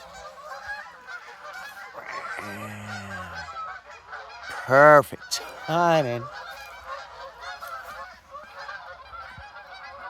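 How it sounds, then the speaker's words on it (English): A flock of geese flies over a rural homestead in the morning, honking loudly in several overlapping bursts that swell as the birds pass close by. Someone speaks briefly amid background voices. "here are the geese."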